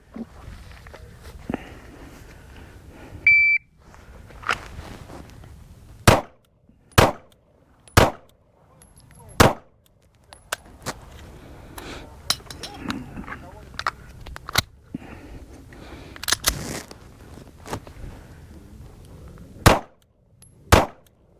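Six sharp pistol shots fired in a bill drill on a shooting range, a timer beep ahead of them, each crack loud and close, with a pause for a reload partway through and people talking between shots.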